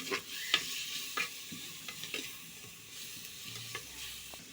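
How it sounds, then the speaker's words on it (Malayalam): Onions sauté in hot oil in a clay pot, with a soft, fairly faint sizzle broken by several distinct scraping stir strokes, no voices. "ഉള്ളി ഇട്ടിട്ടുണ്ട്. ഉള്ളി ഒന്ന് വഴറ്റിയെടുക്കണം."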